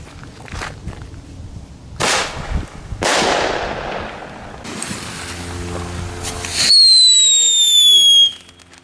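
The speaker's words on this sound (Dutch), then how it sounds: "dan is dat eigenlijk vuurwerk waar meer geluid vanaf komt dan rotjes en zo." Tenner Kings firecrackers burst in sharp, loud cracks and crackling volleys outdoors, followed by a sustained roaring blast and a high whistling fizz near the end.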